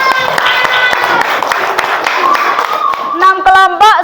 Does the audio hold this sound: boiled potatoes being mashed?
no